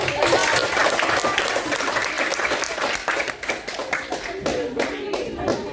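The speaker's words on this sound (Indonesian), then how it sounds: "Kita kasih tepuk tangan dulu dong." A classroom of students claps for a group presentation in an economics lesson, a brisk, dense burst of hand claps that thins out toward the end, loud and close.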